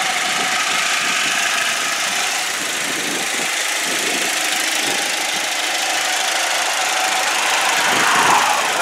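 A 2003 Saturn Ion 2's small engine idles steadily up close, a constant rough hum with a light knocking rhythm and no talking.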